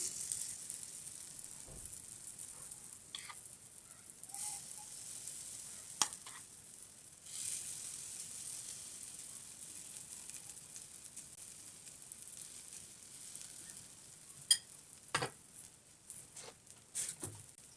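Semolina and wheat flour snack cooking on very low heat in a covered pan, giving a faint, steady soft sizzle with occasional light ticks and pops.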